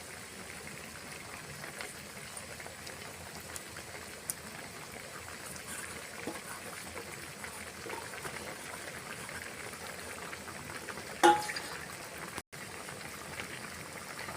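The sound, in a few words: hilsa fish curry with taro stems boiling in pot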